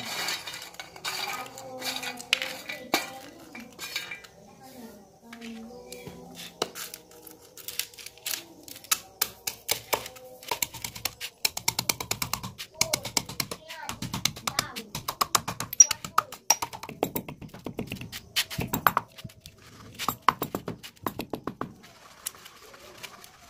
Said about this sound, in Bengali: এবার এগুলিকে একটি হামালদিস্তায় রেখে বেশ সুন্দর করে মিহিভাবে গুঁড়ো করে নেব